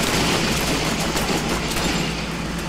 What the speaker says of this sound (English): I was just shooting with the shotgun